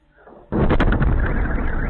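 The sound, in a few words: explosion at an airfield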